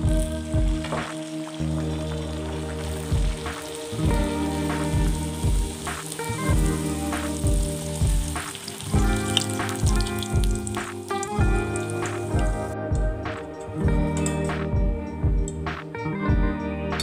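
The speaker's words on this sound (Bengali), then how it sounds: "তেল বেশ গরম হয়ে গেছে। এবার আমি একটা একটা করে লুচি ছেড়ে দেব।" Luchi, puffed Bengali wheat flatbreads, frying in hot oil in a pan: a steady, loud crackling sizzle that runs throughout, with bursts of spattering as each piece is slipped in, and no voices.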